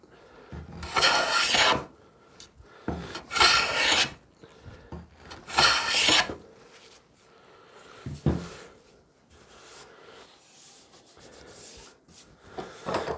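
Rasping strokes of a file fettling a wooden cup blank clamped in a vise, coming in close, loud bursts of scraping with quieter pauses and softer rubbing between them.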